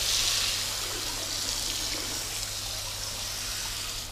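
Water spraying hard over a film-coated surface during rinsing, a continuous hissing splash with a faint low hum beneath, steady and close with no talk.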